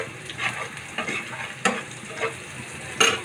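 Salted onions browning in a pan, a close sizzle punctuated by several quick stirring scrapes, no voices.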